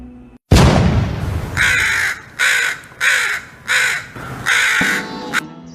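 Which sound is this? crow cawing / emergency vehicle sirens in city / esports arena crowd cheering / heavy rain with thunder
crow cawing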